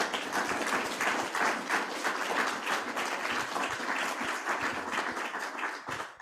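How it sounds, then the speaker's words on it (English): An audience at a Benzie County Democrats meeting gives a sustained round of applause, with dense, even clapping that holds steady throughout and fades slightly at the end. "Round of applause,"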